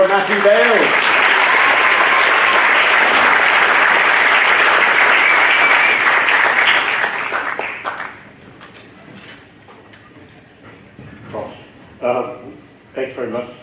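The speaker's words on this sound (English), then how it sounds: "Could you please give a massive round of applause for Matthew Bales?" Loud, sustained audience applause for several seconds, then tapering off into scattered claps and a few voices.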